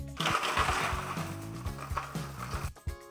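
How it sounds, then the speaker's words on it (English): A kitchen blender grinds conkers into a paste, its motor whirring loudly with a fluctuating, churning tone throughout, dipping briefly near the end before surging again. "add to a blender until you have a paste"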